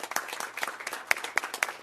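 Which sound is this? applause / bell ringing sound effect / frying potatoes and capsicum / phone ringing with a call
applause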